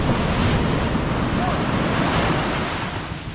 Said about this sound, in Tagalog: Laki ng alon na yan, oh.